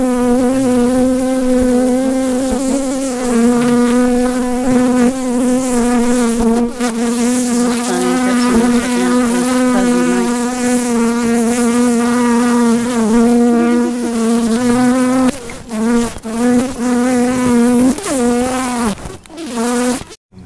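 Honeybees buzz loudly and steadily at close range during a hive inspection, a dense, continuous drone with a wavering pitch. A few soft knocks and bumps come near the end.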